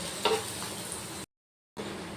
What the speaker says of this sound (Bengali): এইভাবে উল্টে পাল্টে ভেজে নিতে হবে।